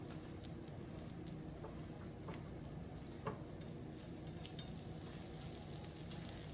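Crab roll buns toasting in butter in a pan, a steady soft sizzle and crackle with scattered small pops, close and continuous.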